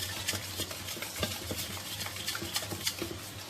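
A hand whisk beats naan khatai dough with sugar in a bowl, a close run of quick scraping and tapping strokes over a soft steady hiss, with no talking.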